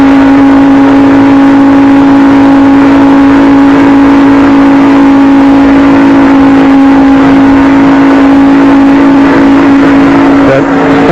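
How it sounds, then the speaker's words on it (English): Engine of a stock car in the 1994 Daytona 500, heard from inside the car at full throttle: a loud, steady, unbroken drone filling the whole stretch with no speech. "How do they race? From inside Jeff Gordon's car."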